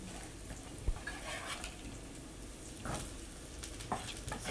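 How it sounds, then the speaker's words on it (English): Mushrooms sizzle steadily in a hot wok, with a few soft clinks and scrapes of the stirring utensil against the metal. "And now my mushroom gonna go in."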